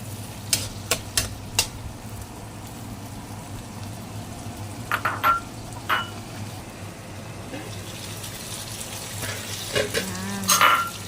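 Chicken in sauce simmers and reduces in a pan with a low steady bubbling sizzle, punctuated by sharp clicks and clinks of a utensil and short bursts of nearby speech.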